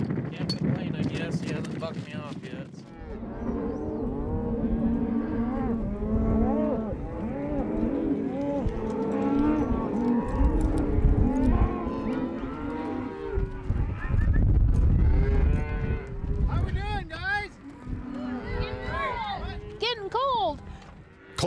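Cattle moo repeatedly during a cattle drive out West, many overlapping calls from a herd nearby and farther off, with hooves and movement beneath.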